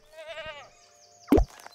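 A sheep bleats in the video game Down in Bermuda with a short, wavering, tremolo cry. A sharp clunk and a brief game chime follow.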